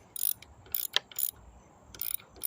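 Ratchet wrench removing a front strut bolt on a 2004 Impala, loud bursts of rapid clicking repeating in short runs with a sharp metallic clink between, no talking.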